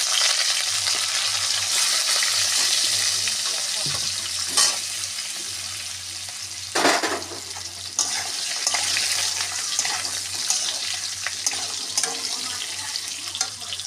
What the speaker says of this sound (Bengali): আলু ফুলকপির দম করতে ফোড়ন দেব, জিরে ফোড়ন, তেজপাতা ফোড়ন, আলুগুলো দিয়ে দেবো